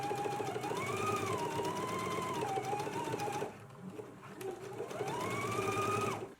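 A sewing machine runs a long basting stitch along shoulder seams, a steady close whirring hum with rising and falling motor pitch, briefly slowing and pausing midway before speeding up again.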